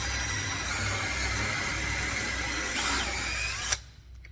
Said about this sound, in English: We'll drill a little bit, then we'll stop and clean it up